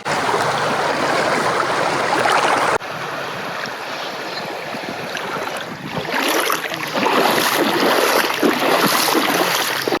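Someone wades on foot through a cold stream, the water rushing and splashing loudly and close in a constant broad wash that shifts as they move through it.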